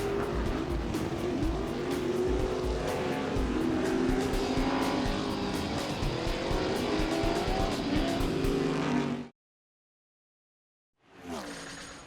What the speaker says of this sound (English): The bad boys of snowmobile racing right here on the ice.